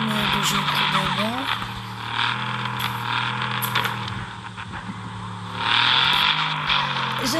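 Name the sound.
car skidding in video game Car Parking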